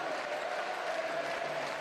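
Basketball crowd in an arena at an Obradoiro versus CB Morón game, cheering and clapping in a steady, dense roar that holds at even loudness, with faint voices blended in.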